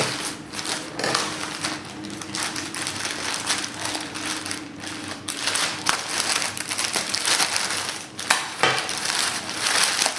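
Crinkling and crushing of packing material as a well-packed DHL Express parcel is opened, a steady run of close rustles, crumples and small knocks with no talk.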